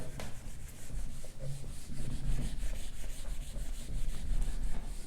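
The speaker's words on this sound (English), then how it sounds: "So I shall rub out this part and write the next step here." Chalk writing being rubbed off a classroom blackboard: a steady, close scraping and rubbing that runs continuously for several seconds, with no one speaking.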